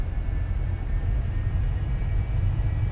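Aircraft engines roaring at takeoff power in the X-Plane 11 flight simulator, a steady broadband drone with a low rumble, holding level and continuous throughout.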